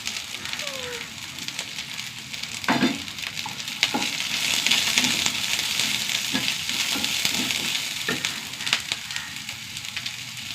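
Coconut pieces and chopped onions fry in a pan, making a steady close sizzle and crackle, with a few scraping and stirring knocks over ten seconds and no clear talk.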